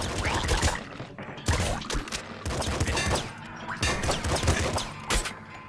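Rapid bursts of pistol gunfire in the video game Nuclear Throne, punchy repeated shots with crunchy impacts, steady and loud throughout with no talking.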